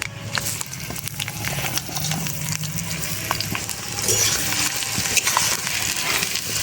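Chopped onions hit about 100 grams of hot oil in a pan over a village clay stove, setting off a loud, dense sizzle with scraping stirs that builds slightly louder toward the end.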